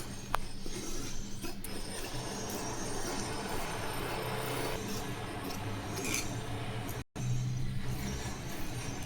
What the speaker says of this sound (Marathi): आणि आता असं काही कापून घेते मी